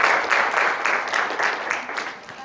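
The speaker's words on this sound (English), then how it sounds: "Give a clap to who have written goal." Audience at a motivational seminar claps together in steady, continuous applause, fairly close and even in level throughout, with no voices on top.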